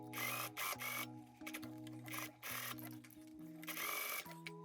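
A sewing machine runs in short bursts as it stitches a jacket pocket seam shut, its motor whirring loudly in several close stop-and-start runs with brief pauses between.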